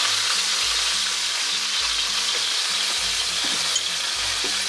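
Turkey drumsticks frying in a pot over leeks and onions: a loud, steady sizzle with a continuous hiss, close and constant throughout, with no voices.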